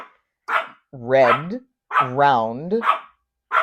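An indoor dog gives a few close, whiny, high-pitched barks and yips in short bursts separated by silence, with a brief spoken word in between.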